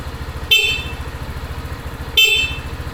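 A Samurai 155i motorcycle's horn sounds in two short, bright, loud beeps over the steady pulsing putter of its idling engine.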